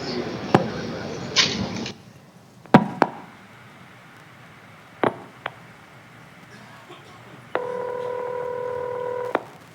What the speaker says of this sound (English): That's the supervision handshake, off hook, on hook.